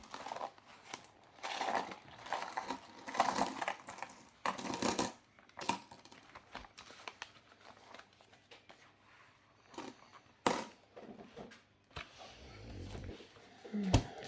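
Coins jingle and clink as they are handled and tipped out of a paper budget envelope, close and fairly quiet, with scattered metallic clatters and paper rustling.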